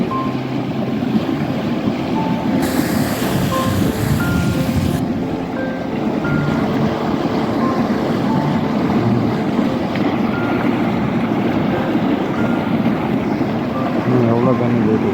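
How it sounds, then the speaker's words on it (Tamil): Heavy rainwater pours along a road in Saudi Arabia, making a loud, steady broadband rush that lasts the whole stretch, with traffic noise in the background and someone talking over it. "எவ்வளோ தண்ணி போயிட்டு இருக்குது."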